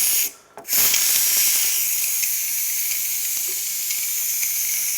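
Steam hisses steadily from the pressure release vent of an Instant Pot, a loud continuous rush that begins abruptly after a short pause and holds level to the end.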